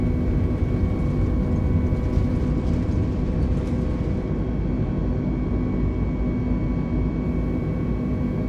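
Airbus A320 jet engines roaring at takeoff thrust in Microsoft Flight Simulator, a loud, steady, heavy drone with a faint high whine from the engines through the whole rotation.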